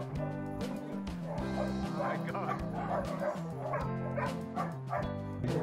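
Dogs bark and yip together at an animal shelter in Medellín, a dense overlapping chorus of barks, loud and close and continuous throughout.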